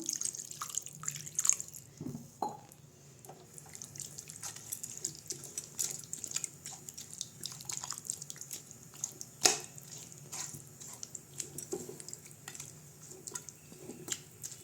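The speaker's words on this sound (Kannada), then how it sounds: "ಇದಕ್ಕೆ 1 ಗ್ಲಾಸ್ ಅಷ್ಟು ನಾನು ನೀರು ಹಾಕ್ಕೊಳ್ತಾ ಇದ್ದೀನಿ" Water is poured into garlic chicken frying in a pan, giving soft drips, splutters and wet squishing over a faint steady hiss, with small clicks scattered throughout and no one talking.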